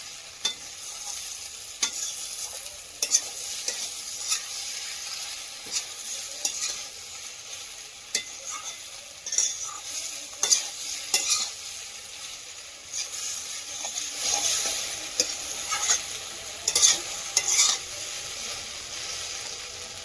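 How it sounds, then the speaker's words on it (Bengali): Vegetables sautéing in a pan, a quiet steady sizzle broken by repeated scraping strokes of a spatula stirring the mix, close by with no talk. "সবজিটা খুব সুন্দর করে কষিয়ে নিয়েছি"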